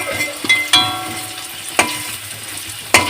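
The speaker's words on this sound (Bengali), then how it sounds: "আলুটা ভাজা ভাজা হয়ে এসছে এবার নামিয়ে নেবো" Potatoes fry in hot oil alongside chicken for a Bengali chicken kosha, with a steady sizzle broken by several sharp scrapes and clatters of stirring, close and fairly loud.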